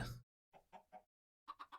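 Chickens cluck in the Stoneblock 2 video game, a short burst followed by two quick groups of three clean clucks separated by silence, faint and alone.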